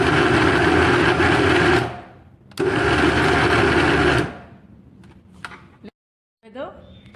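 A blender pulses cookie ingredients in two loud, steady bursts of whirring motor noise, each lasting about two seconds, with quieter handling sounds and a short pause between and after them.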